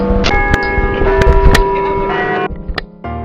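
Church bells peal in a legend of bells sunk beneath a lake, sounding from under thick ice; several loud ringing strikes overlap with a sustained resonant hum, then fade briefly before another clang near the end.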